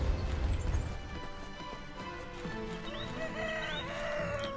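A person imitates a rooster crowing in a drawn-out, warbling cock-a-doodle-doo, heard close and fairly loud over a steady low background.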